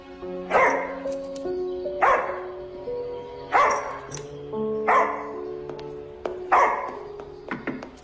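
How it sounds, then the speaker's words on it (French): A dog named Barney barks at a visitor arriving at the door, giving five loud, spaced barks about every second and a half, close by, over a soft sustained tonal background. "Il aboie beaucoup, mais il est pas méchant."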